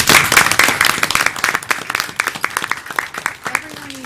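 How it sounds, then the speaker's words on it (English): An audience at a city of Henderson council meeting breaks into applause, a dense burst of clapping that starts loud and gradually thins out, with a voice speaking over it. "And I would like to give them a big round of applause."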